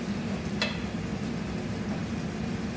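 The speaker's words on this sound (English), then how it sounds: "I'll give my potatoes a stir here." Potatoes frying in a hot pan for a steak-and-eggs breakfast, a steady close sizzle with one brief scraping stir partway through, no voices.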